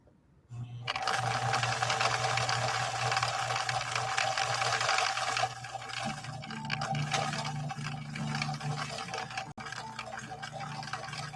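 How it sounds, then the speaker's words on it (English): A 1964 Viking Husqvarna 19E Special sewing machine runs steadily, stitching a narrow zigzag in a fast, even mechanical whir with a low motor hum, dipping slightly midway and pausing briefly near the end. "what we got is we got a more narrow zigzag"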